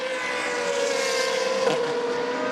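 A Lotus Formula V race car engine at the Hungaroring, a sustained high droning whine that stays steady and loud, with a slight pitch shift as it passes.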